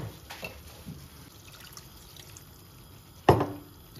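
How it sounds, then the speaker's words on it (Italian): Water added to meatballs cooking in a pan, a short loud splash and sizzle after a few seconds of quiet kitchen sounds. "quindi ne vado ad aggiungere un po' d'acqua."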